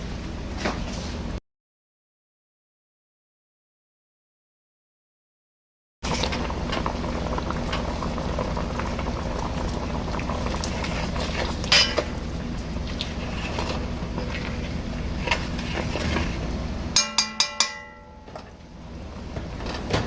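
Ogbono soup with okra simmering in a pot, a soft continuous bubbling broken by a stretch of silence, then stirring scrapes and a few sharp knocks of a spoon near the end, close and fairly quiet.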